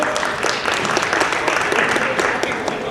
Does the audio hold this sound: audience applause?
yes